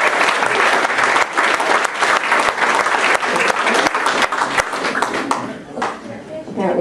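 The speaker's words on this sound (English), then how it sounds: "Please give Mary Ellen a big round of applause." A reunion audience claps enthusiastically in a big round of applause, dense and close, continuing for several seconds before thinning out toward the end.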